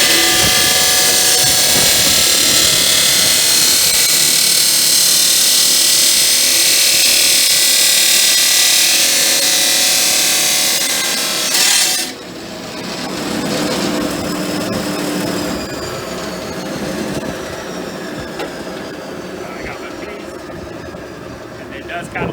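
A chop saw cuts metal, starting as a loud close, bright grinding screech that holds for about twelve seconds, then stops and winds down into a fading whir.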